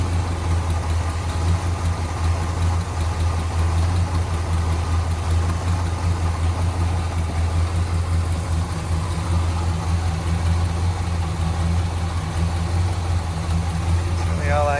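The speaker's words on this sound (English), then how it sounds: "See it at a natural idle though." A 1970 Pontiac GTO Judge V8 idles steadily just after a cold start with the choke kicked off, running slightly rich; a loud, continuous low rumble holds throughout with a faint voice briefly over it near the end.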